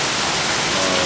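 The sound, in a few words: heavy rain pouring on tin roof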